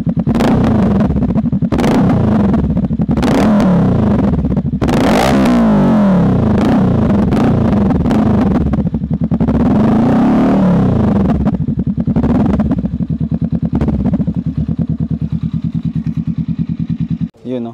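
Honda Rebel 500 motorcycle with a Vance and Hines slip-on exhaust, its engine revving loud and close in repeated bursts over a steady low idle drone.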